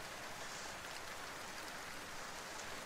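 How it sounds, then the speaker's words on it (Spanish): Light rain beginning to fall outdoors, a steady soft hiss of drops at low level with no voices, even and unbroken throughout. "Había empezado a llover tímidamente."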